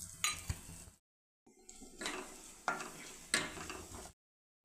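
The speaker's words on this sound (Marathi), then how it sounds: "आता याच्यामध्ये हे जे काजू आहेत जाडसर केलेले आणि बदाम, ते आपल्याला हलकेसे भाजून घ्यायचे आहे।" Chopped cashews and almonds roast lightly in ghee in a kadhai. Soft sizzling and scraping stirs come in several short bursts, with quiet gaps between them.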